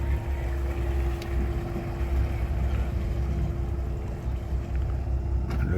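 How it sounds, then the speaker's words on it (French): The SNSM lifeboat pulls away from the harbour at Groix with a steady, fairly loud engine drone and a low rumble, alongside light wind and faint background noise. "Départ de la vedette SNSM de Groix."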